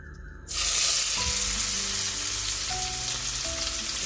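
Shrimp coated in salt and turmeric hit hot oil in a kadai, setting off a sudden loud, steady sizzle that continues without a break, with no talking.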